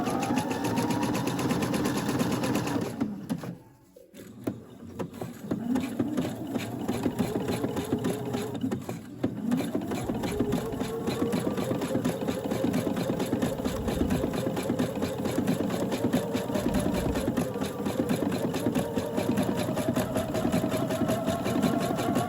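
A home sewing machine runs a zigzag stitch over elastic while a bra is made, a steady close mechanical whir that continues for most of the stretch, with one short pause and slight shifts in speed.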